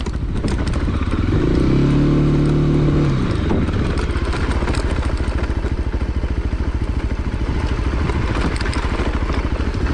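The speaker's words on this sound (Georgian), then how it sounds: "ძალიან კარგი მოტოციკლია, ძალიან." A Rieju 307 Rally motorcycle is ridden on rough rural roads in the Bazaleti area on tyres at high pressure. Its engine sends out a loud, continuous, close-up rasping drone with a brief rising rev near the start and steady rattle throughout.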